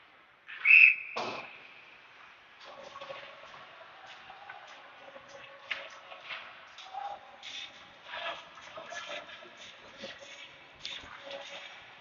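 At an ice hockey game, a referee's whistle gives one short, sharp blast early on. Faint rink noise follows, with skates scraping and a few thumps and clatters.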